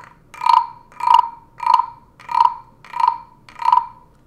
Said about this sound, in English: Kind of sounds like a frog, doesn't it?